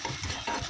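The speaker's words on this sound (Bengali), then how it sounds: "দুটো ডিমকে এভাবে ঝুরি ভাজা করে নিচ্ছি" Two eggs being scrambled and stirred in a hot frying pan for a home-style dish, a brief scraping stir over soft sizzling, with no talk.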